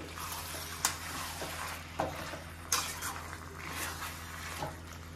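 Mutton boti frying country-style on a high flame, a steady close sizzle with a few sharp clinks and scrapes from stirring scattered through it.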